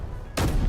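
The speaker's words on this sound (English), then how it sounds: "Artillery's already opening up." Artillery fires in Space Engineers as a single sudden, loud, deep boom that bursts in after a low rumble and rings on briefly.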